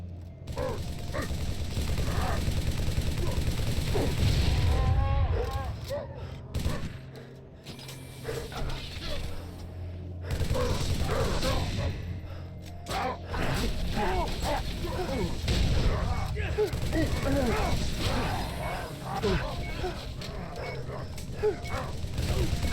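Gunfire in the video game Halo ODST, played with a Steam controller: bursts of rapid weapon fire and mechanical clatter in a dense game soundscape, with brief pauses between volleys.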